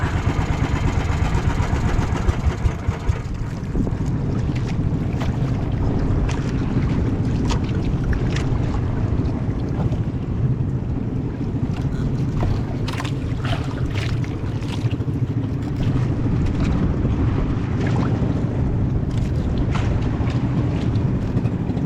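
A boat engine drones steadily on open water, with wind buffeting the microphone and occasional splashes and knocks throughout.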